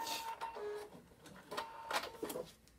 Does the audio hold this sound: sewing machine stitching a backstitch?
yes